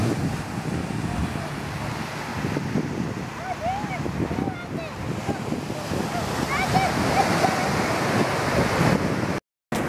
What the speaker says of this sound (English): We're here at the beach.